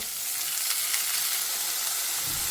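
Chopped tomato pieces going into a pan of frying onions for an eggplant pakora curry, giving a steady dense sizzle with soft stirring scrapes throughout, close and even, no talk.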